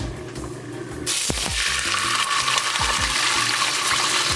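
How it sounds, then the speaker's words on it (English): Water gushes steadily into a cooking pot of soaked rice for chicken biryani after a brief quiet moment, a continuous splashing rush that carries on to the end. "Now I'm gonna add some water."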